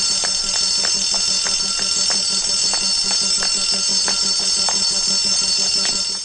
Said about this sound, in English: They pull the alarm.